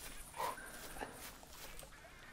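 A hunting dog in theHunter 2016 gives a short bark or yelp, then a softer second one, fairly faint and under steady background noise.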